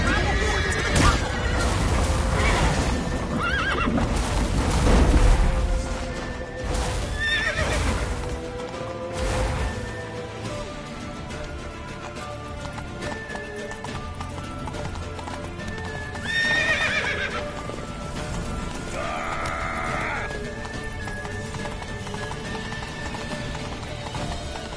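Horses in The Witcher 3 whinny and neigh loudly over galloping clip-clop hooves, with game music and a crash beneath, while a voice shouts at times.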